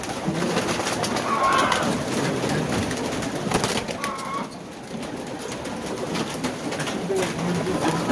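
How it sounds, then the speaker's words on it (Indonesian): Pigeons coo steadily and closely at a pigeon breeding farm, with a dense chorus of low cooing and rustling continuing throughout. "Ini anak burung merpati."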